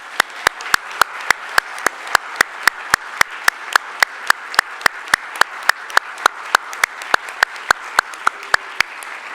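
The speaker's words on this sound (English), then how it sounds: "Please join me in a last round of applause for our winners" A hall audience at an awards ceremony gives a round of applause for the winners, steady and sustained, with sharp individual claps standing out in a regular rhythm over the softer crowd clapping.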